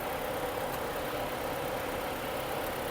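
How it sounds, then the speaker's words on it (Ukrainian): Steady, even hum of a Ford Fusion engine idling nearby, constant and unbroken with no other sounds. "Двигун працює чітко"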